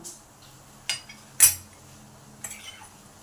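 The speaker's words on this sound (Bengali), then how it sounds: "এই ইনোটাকে মিশিয়ে দিলাম এর সঙ্গে এক চামচের মতন জল দিলাম" Metal spoon stirring ENO into rice batter in a bowl, a few sharp clinks against the dish spaced apart, close and clear, no talk.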